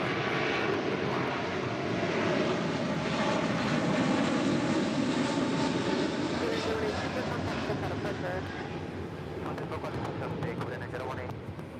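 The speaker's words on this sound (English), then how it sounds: "That is Korean Air Flight 18 Super departing to Seoul on the A380." Korean Air Airbus A380 jet departing LAX to Seoul, a broad steady engine roar that holds strong and slowly fades, with radio and voice chatter underneath.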